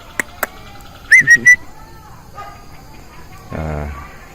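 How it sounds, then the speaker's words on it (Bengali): A few short dog barks ring out at a distance at night beside a fish pond and biofloc setup, separated by quiet pauses with faint clicks in the background. "কুকুরের আওয়াজ পাচ্ছে"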